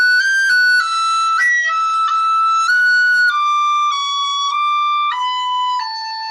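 Irish tune Lord Inchiquin played alone on a tin whistle: a clear, bright melody of bending, articulated notes with cuts and taps separating the repeated notes, steady and close.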